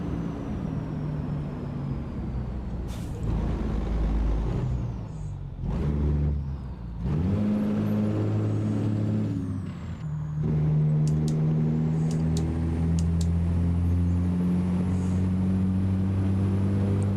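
A truck engine in American Truck Simulator drones steadily, rising and falling in pitch through several gear changes, with brief dips between shifts and no voices.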